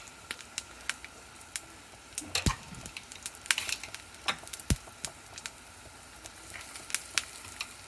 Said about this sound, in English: I'll be putting my patties onto the pan